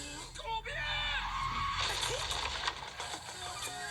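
A man, eyes shut, lets out a sustained scream of rage that is fairly faint and mixed with a busy, noisy background.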